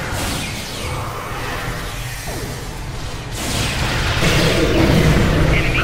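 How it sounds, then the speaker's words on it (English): Cryo grenade burst in Star Trek Online, a loud whooshing blast that swells and rolls on with dense combat noise, close and continuous, with no talk. "Oh crap, cryo grenade."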